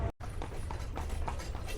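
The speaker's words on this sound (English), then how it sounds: "So we are now on a horse carriage on the streets of Edfu." Hooves of a horse drawing a carriage clip-clop along the streets of Edfu in a steady trotting rhythm, moderately close, after a brief cut at the start, with street noise around them.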